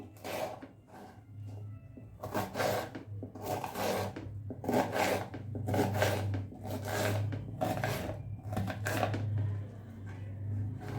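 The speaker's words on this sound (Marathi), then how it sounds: "तर आता आपण हे कट करून घ्यायचे आपल्याला ह्या पद्धतीने" Bitter gourd (karela) sliced with a knife on a board in a home kitchen: a regular series of crisp, rasping cuts about once a second, close and distinct over a low steady hum.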